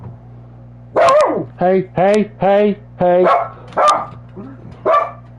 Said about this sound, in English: My dog is flipping out.